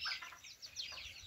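Desi chickens on a small farm give a few quick, bright clucks and squawks close by, brief and unaccompanied by talk.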